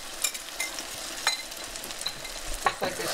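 Eggs scrambling softly over medium-low heat in a pan with browned, crisped potatoes, a gentle sizzle punctuated by close scraping strokes of a spatula every fraction of a second.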